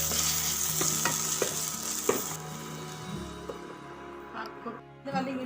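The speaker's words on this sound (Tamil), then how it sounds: "நான் ஒரு 2 தக்காளி ஆட் பண்ணிக்கிறேன். இதை வதக்கிக்கலாம்." Green chillies and tomatoes sauté in a pan: a steady oily sizzle runs beneath repeated scraping stirs of a spoon against the pan, close up, with the sizzle easing off near the end.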